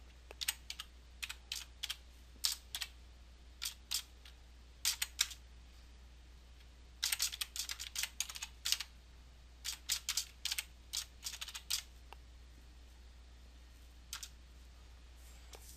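Someone types on a computer keyboard while entering text in AutoCAD 2D, producing quiet, crisp key clicks in short irregular bursts with pauses between them, alone over a low steady hum.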